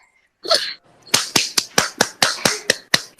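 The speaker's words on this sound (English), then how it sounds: "Yeah, I was clapping my hands." One person clapping hands close by, about ten sharp, evenly spaced claps after a brief voiced sound at the start, crisp and alone.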